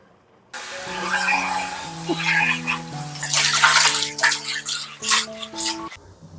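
A cotton sochang dish towel is rinsed by hand in hot water, with sloshing and splashing that swell and fade over soft background music.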